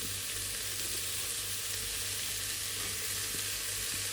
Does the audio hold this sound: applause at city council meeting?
no